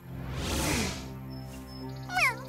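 A cat lets out a drawn-out meow at the start, then a short, higher mew near the end, up close over a faint background hum and music.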